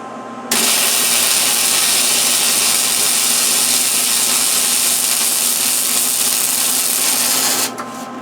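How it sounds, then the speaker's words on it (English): A MIG welder lays a continuous bead along a steel deer feeder hanger, a loud, steady crackling hiss that starts abruptly and holds for about seven seconds before cutting off, close up. "Now I weld it right straight along"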